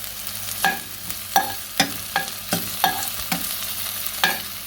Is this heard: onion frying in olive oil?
yes